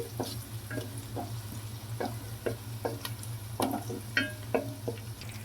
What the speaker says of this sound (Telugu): లైట్గా గోల్డెన్ కలర్ వచ్చేంత వరకు అయితే ఉల్లిపాయ ముక్కల్ని అలాగే పచ్చిమిర్చిని కూడా వేయించుకున్నాం